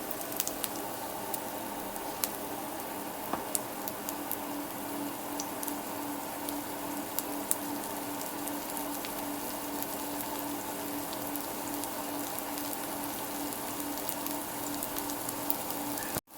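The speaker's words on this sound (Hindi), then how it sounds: "डीप फ्राई नहीं करेंगे, इसे शैलो फ्राई करेंगे।" Cauliflower kebabs shallow-fry in oil with an even, rain-like patter and crackle that holds steady and fairly quiet from start to finish.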